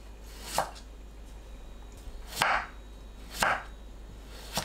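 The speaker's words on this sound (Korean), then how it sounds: "오이를 채 썰어주세요." A knife cutting cucumber into thin julienne strips for a Korean cucumber salad, three separate crisp chopping strokes on a board, close and fairly quiet with no talk.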